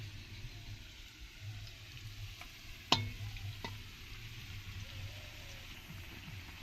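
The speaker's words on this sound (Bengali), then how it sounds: "আলুগুলো ভাজা হয়ে গেছে এবার একটা পাত্রে তুলে নেবো" Potatoes frying in oil for chicken biryani in a rural outdoor kitchen, a soft steady sizzle with a sharp clank of a utensil midway and a few lighter taps.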